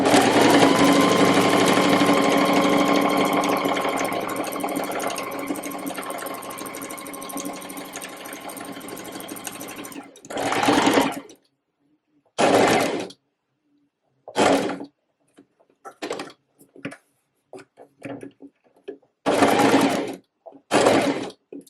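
A sewing machine stitches a reversible Bonnie-pattern waistcoat, first in one long continuous whirring run, then in a series of short bursts separated by pauses as the fabric is turned, close and fairly loud with no talk.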